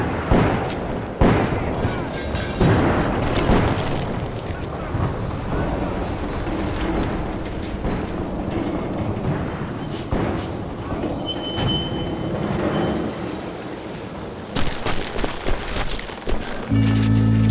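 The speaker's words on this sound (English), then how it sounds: "They blew the bridge with the intention of forcing the train to stop." Explosion blowing up a railway bridge and a train in a Western video game, with booming blasts and rumbling rail noise layered under a dense, loud mix of music and effects throughout.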